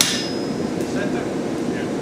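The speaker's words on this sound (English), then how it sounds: "And here I go with the chisel and I make 4 marks." Hammer blows on a chisel marking a metal workpiece at a metal arts forge, a few quick close metallic taps over steady background noise, with no voices.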